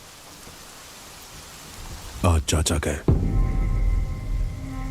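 A film storm in Bombay: a burst of rumbling thunder cracks breaks over steady heavy rain, with a voice speaking just before the thunder.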